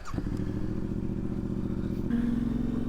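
A motorcycle idles and pulls away with a steady, throbbing engine note, then the pitch rises as the rider sets off, heard close and continuous with no talking.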